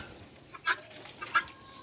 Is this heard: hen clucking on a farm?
yes